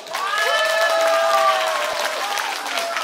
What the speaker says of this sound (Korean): 박수라 저거 박수!